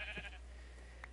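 Sheep in a video game bleat briefly and faintly, with a short call near the start and a small one at the end, over a steady low hum.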